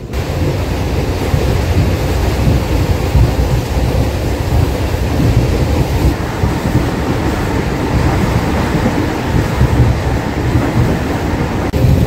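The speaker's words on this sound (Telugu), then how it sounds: "మన ట్రైన్ స్పీడ్ ప్రస్తుతం 90 దాకా వచ్చింది" A 12-coach MEMU train running at speed, a loud steady rushing rumble of wheels and wind with no breaks, heard from on board.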